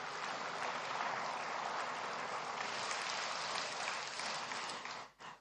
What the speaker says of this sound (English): let's hear a resounding Abuja round of applause